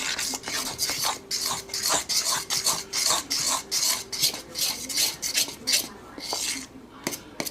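A utensil stirs and scrapes through lumpy nokedli batter in a bowl, a quick rhythmic series of close, loud rasping strokes that slows briefly near the end.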